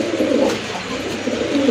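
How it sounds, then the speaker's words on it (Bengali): Yellow-eyed pigeons at a pigeon sale coo in soft, repeated low throaty calls, close and steady throughout the short stretch. "এটা একদম চারটা চোখে হচ্ছে ইয়েলো চোখের কবুতর"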